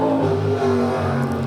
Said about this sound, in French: On adore les voitures là